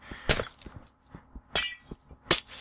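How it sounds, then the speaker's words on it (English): Panes of glass smash one after another in a video game, giving three sharp shattering crashes spread over a couple of seconds, with light tinkling debris and soft thuds in the gaps and no talking. "I'm breaking the glass."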